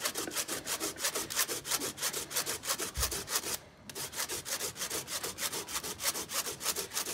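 Hoof rasp filing the bevel on a horse's hoof during a barefoot mustang-roll trim, steady rhythmic back-and-forth rasping strokes, close and even, with one brief pause partway through and no talking.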